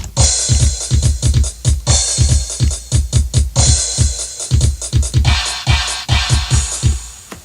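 A drum beat programmed in Guitar Pro plays steadily, punchy kicks and crisp hi-hats in a repeating groove, with a cymbal crash marking each new bar.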